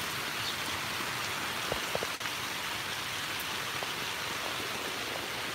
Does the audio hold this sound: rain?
yes